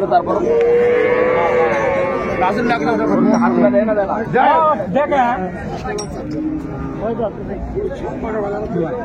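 Cows and calves low at a busy cattle market in Raniganj, Dinajpur, several drawn-out moos rising over a crowd's chatter and bargaining voices, with people talking nearby throughout.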